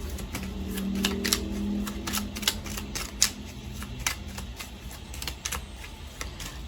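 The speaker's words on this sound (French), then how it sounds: "Je vais encore prendre une carte." Playing cards being shuffled and drawn in a card-reading session: a run of quick papery flicks and taps over a steady low background hum, with no talking.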